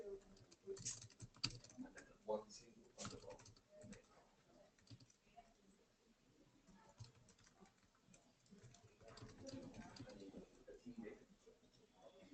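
Fast, irregular keystrokes on a computer keyboard while questions are answered, quiet and close, with a low hum of room noise underneath and no speech.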